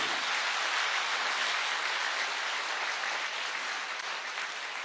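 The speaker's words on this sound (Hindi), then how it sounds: "एक जोरदार तालियां होनी चाहिए संस्था के लिए" Audience clapping at a health awareness talk, a steady, dense patter of applause heard at moderate distance, holding evenly for several seconds with no talk.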